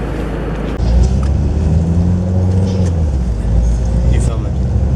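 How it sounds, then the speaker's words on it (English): A Porsche rolls into a car boot sale on Bessemer Road in Cardiff, its engine a deep steady rumble close by that swells slightly as it moves, with people talking over it. "Driving into a car boot sale with a Porsche."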